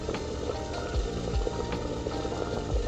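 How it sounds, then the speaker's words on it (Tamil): Hot water poured for Japanese tea, about 300 ml, gurgles and bubbles steadily into a vessel with a few small splashing knocks, close and continuous without talk. "நான் ஒரு 300 ml அளவுக்கு அப்ராக்சிமேட்டாக தண்ணி ஊற்றிருக்கிறேன்."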